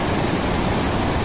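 Waterfall at Harishchandragad during monsoon, a dense, steady roar of falling water filling the air evenly with no breaks or voices.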